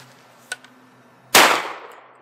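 A single loud .410 shotgun blast fired outdoors at a thrown target near tree branches, a sharp broadband crack with a decaying tail, preceded by a faint small click.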